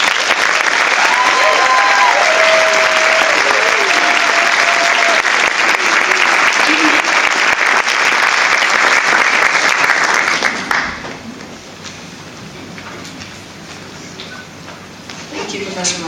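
A commencement audience applauds loudly and steadily for about ten seconds, with a few overlapping voices heard, before the clapping drops away into quieter room sound.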